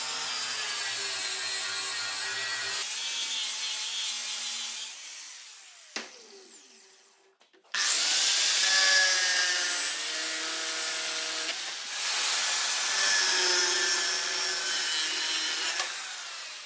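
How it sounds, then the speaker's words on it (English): A grinder rough-grinding a Damascus steel billet forged from forklift chain, with loud sustained whining passes that break off briefly and then resume, close and continuous. "Time for rough grinding to see what we actually made."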